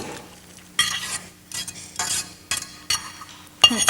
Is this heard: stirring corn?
yes